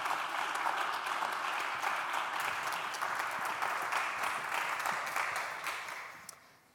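An audience applauds steadily to welcome artist Elizabeth Price at an evening talk in Chicago, then the clapping thins and fades out near the end.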